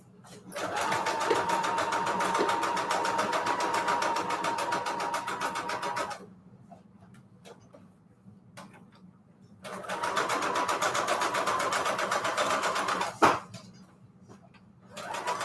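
A sewing machine stitches around a paper envelope in red thread at a long stitch length, running in two sustained bursts of steady mechanical whirring separated by a quiet pause, close and clear.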